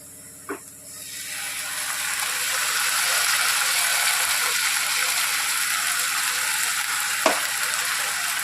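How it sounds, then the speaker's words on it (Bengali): A paste of onion, ginger, garlic, green chilli and cumin hits hot oil in a pan and breaks into a steady broadband sizzle that holds loud and close, with a couple of sharp clinks from a utensil. "পেস্টটা দিয়ে এবার সুন্দর করে এটাকে কষিয়ে নিতে হবে।"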